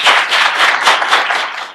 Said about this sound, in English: Let's give Donald Norcross a big round of applause.